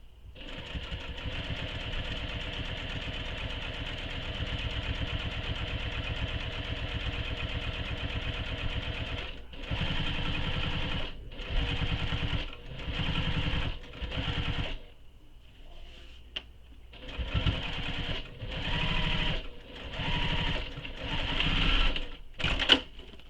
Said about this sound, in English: So increase your stitch length and top stitch.